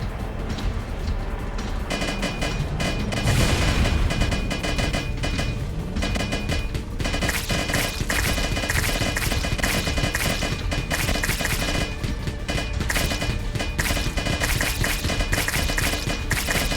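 A missile fires in the video game Wall World amid a loud, dense, continuous barrage of rapid combat blasts and clattering impacts that runs unbroken throughout.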